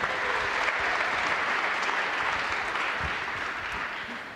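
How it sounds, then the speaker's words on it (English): A crowd claps for unsung hero award winners at an awards event, sustained dense applause that starts full and fades slightly toward the end, with no talking on top. "Give a nice round of applause for our Unsung Hero Award winners."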